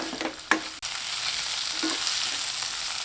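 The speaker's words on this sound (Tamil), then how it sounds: "மீடியம் ஃப்ளேமில் காய்கறியை ஒரு மூணு நாலு நிமிஷம் நல்லா வதக்கி விடுறதுலே" Vegetables for red flattened rice upma sauté over a medium flame while a utensil stirs and scrapes, with a couple of brief clanks over a continuous frying hiss.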